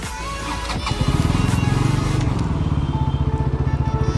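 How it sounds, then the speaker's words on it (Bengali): A new Bajaj Pulsar NS200 motorcycle idles close by, then its engine catches into a loud, steady pulsing thrum with a rapid, even beat that holds throughout. "তো গাইজ একবার সাউন্ডটা চেক করো জাস্ট।"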